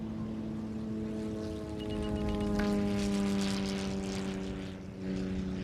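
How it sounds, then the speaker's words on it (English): Propeller airplanes flying overhead in the SimCity 5 city-building game, a steady droning engine hum that swells slightly in the middle and holds on without voices. "The airplanes also get a little much after a while."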